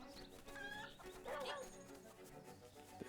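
A chicken in The Legend of Zelda: Link's Awakening gives a few quick, fairly quiet clucks and squawks in a short burst, with game music playing faintly underneath.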